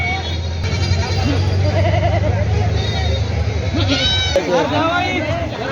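Goats and sheep bleat repeatedly at a busy weekly livestock market in Vasmat, the wavering cries rising near and far amid crowd chatter, with someone talking close by throughout.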